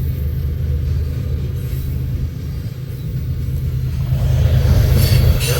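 Union Pacific freight train rolling past at close range with its rear DPU locomotive 2767 in the Missouri Valley, a steady heavy rumble of engine and wheels that builds slightly louder toward the end, with no talk.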